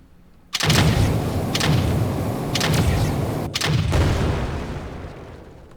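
Automated turrets in the Manifest 369 video game fire on freshly spawned AI enemies at a base power station, loud repeated heavy booms in an uneven rhythm over a sustained rumble, lasting several seconds with no talk.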